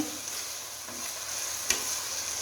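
Macaroni and vegetables tossed with soy sauce are stirred in a hot pan, giving a steady, close sizzling hiss with one sharp scrape or clack partway through, and no voices.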